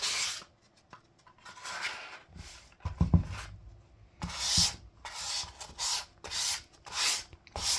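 Fine sandpaper is rubbed by hand across a water-based top coat on a wooden heart, with repeated short rasping strokes in an uneven rhythm, close and clear, and a few bumps of handling between strokes.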